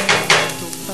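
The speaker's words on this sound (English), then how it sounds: "like to add the peppers in about the same time I'm sauteing the onions and celery" Peppers, onions and celery sauté in a pan with a steady close sizzle, broken by a couple of louder scraping stirs near the start.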